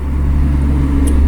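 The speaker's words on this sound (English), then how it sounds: "That is the cars driving by." Cars pass outside a window as a steady low traffic rumble, loud and continuous, with no voices.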